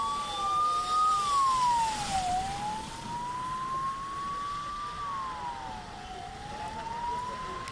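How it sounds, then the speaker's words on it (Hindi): Ambulance sirens wail at the Amarnath Yatra rescue site near Baltal, one loud rising-and-falling siren tone sweeping slowly and steadily, with engine rumble and crowd noise beneath and no talking. "अशरफ, मैं देख पा रहा हूं कि यहां पर एम्बुलेंस और अच्छी खासी संख्या उनकी है"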